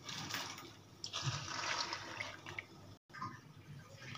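Hot water pours into a cooking pot of soaked five-lentil mix (panchkalai) in a home kitchen, a steady close splashing stream running about three seconds, a brief break, then more pouring.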